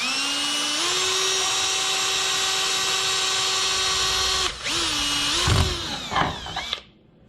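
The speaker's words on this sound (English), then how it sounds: "I would recommend this fine Milwaukee piece of drill." A Milwaukee power drill bores holes for fitting LED reverse lights near a bumper, a loud steady whine that holds for several seconds, then stutters through short bursts before stopping.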